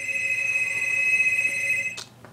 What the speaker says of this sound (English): phone interruptions, awesome.